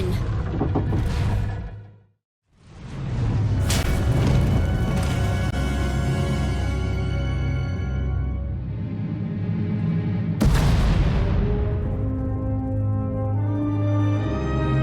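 Sci-fi explosions in Star Wars: The Old Republic, two heavy blasts, each a sudden loud burst followed by a long rumbling decay, layered over a continuous low game soundscape with a brief gap of silence early on.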